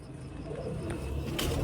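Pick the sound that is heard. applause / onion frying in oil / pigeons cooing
pigeons cooing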